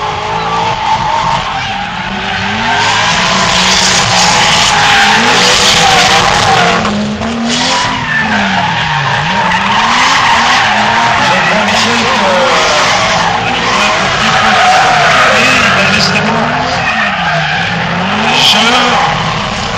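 Tires skid and squeal continuously as a car drifts at a 2010 drift challenge event in Pusey, with engine revving under the screech and a crowd or commentator faintly present.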